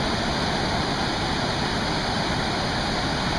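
Steady broadband roar of the South Bend waterfall on the Elkhart River, heard up close from a kayak, a dense, unbroken rush of falling water with no voices over it.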